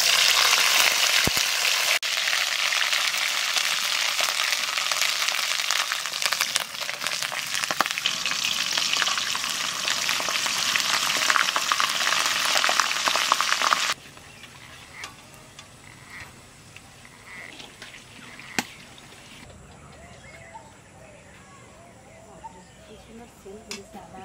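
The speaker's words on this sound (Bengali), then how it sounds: "তেলের মধ্যে দিয়ে দেবো কালো জিরে, আর দেবো আদা বাটা" Nigella seeds and ginger paste fry in hot oil for a mango kasundi pickle, giving a loud, dense, steady sizzle for about fourteen seconds, then dropping to a much quieter crackle with occasional ticks.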